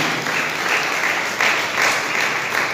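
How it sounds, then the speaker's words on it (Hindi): A congregation at a church service claps their hands together, a loud, dense burst of applause that swells in slightly rhythmic waves and fills the whole stretch with no voices on top. "ताली बजा के परमेश्वर को महिमा दें"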